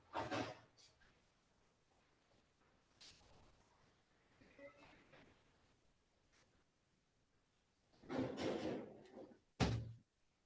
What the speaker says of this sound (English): Let me close this door really quick.